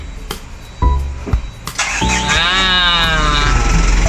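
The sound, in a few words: cold chain truck engine starting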